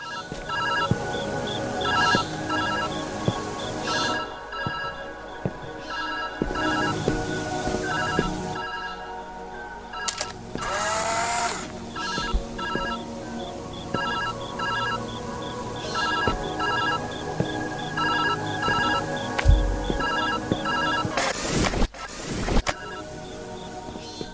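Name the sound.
telephone ringing in video game Viewfinder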